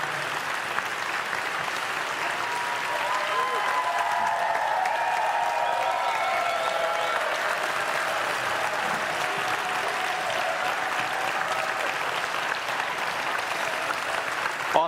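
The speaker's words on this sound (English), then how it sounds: "Please give them a round of applause." Steady crowd applause at a university closing ceremony, a long continuous wash of clapping with faint cheering and voices underneath.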